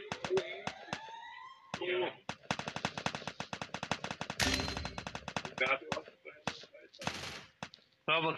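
Rapid video game gunfire crackles in dense bursts through much of the clip, loud and close, mixed with game effects while someone talks over it.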